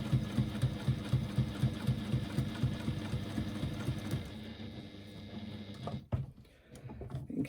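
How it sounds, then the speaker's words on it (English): Sewing machine stitching and back-stitching a seam on fabric for a press bag, a close steady rapid stitching rhythm that stops about two-thirds through, leaving light handling noises. "I'm just going to back stitch a couple of stitches at the beginning just to secure my stitching."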